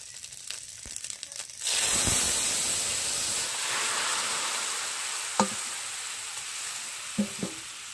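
Fish curry simmering in a pan with ginger paste and a bay leaf, a steady sizzling hiss starting after a couple of seconds, with a few sharp clinks of a utensil against the pan.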